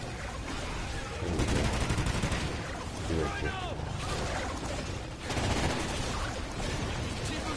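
Explosive rounds fire in a combat video game, dense crackling bursts of gunfire and blasts in loud rolling waves, with other battle noise behind them.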